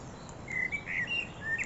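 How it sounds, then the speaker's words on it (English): Birds chirp in a cemetery by day, several short, high, bright calls coming in quick bursts over a soft, steady background. "with the birds chirping away"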